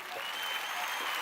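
Audience applause from a crowd at a business talk, a dense, even patter of clapping that holds steady through the whole short moment and sounds somewhat distant.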